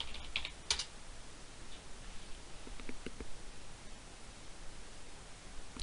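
Someone types a password on a computer keyboard during a Kali Linux install. A few quiet, scattered keystrokes tap in short bursts with pauses between them, over low background hiss.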